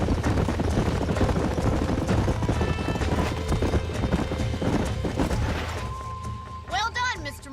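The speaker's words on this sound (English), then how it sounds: "These are fine horses." Horses trot along with steady overlapping clip-clop hoofbeats in a Red Dead Redemption ranch scene, continuous and fairly close, with a voice speaking briefly near the end.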